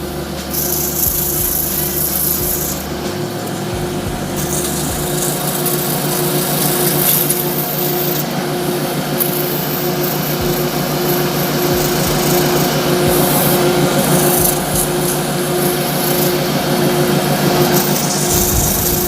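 Sanding a cast resin shaving brush handle through successive grits to clear excess CA glue, a steady loud abrasive rubbing that runs continuously with a power-tool drone underneath.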